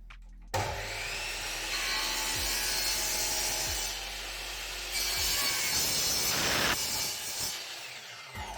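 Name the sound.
sawing wood, cutting third drawer piece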